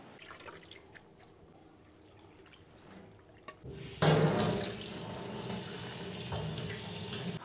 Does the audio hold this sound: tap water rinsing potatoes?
yes